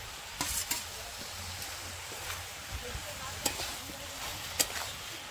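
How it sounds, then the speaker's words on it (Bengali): Potatoes stir-fried with spiced purple cabbage in a pan, a soft continuous sizzle broken by occasional scraping stirs and light clinks, close and fairly quiet. "সব একসঙ্গে ভালো করে কিছুক্ষণ কষাবো"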